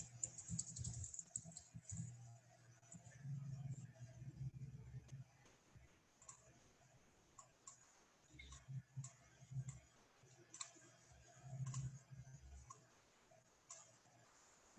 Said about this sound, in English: I'm going to type that out here.